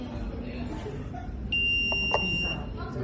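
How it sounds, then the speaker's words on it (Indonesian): A buzzer on a motion-sensor hardware lab project beeps in a steady high tone over room noise, with people talking and chuckling nearby. "buzzer akan berbunyi ketika sensor tidak mendeteksi gerakan, dan akan berhenti berbunyi ketika mendeteksi gerakan"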